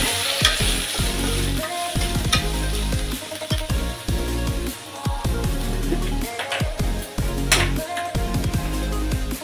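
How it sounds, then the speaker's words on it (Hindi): Small diced paneer cubes half-frying in a pan, a steady sizzle with repeated stirring clatter running throughout, close and fairly loud, with a tonal layer blended underneath. "पनीर को मैंने छोटे डाइस में यहाँ हाफ फ्राई कर रही हूँ"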